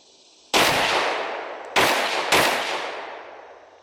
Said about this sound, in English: that was just me shooting a variety of stuff as well as sighting in the 30-30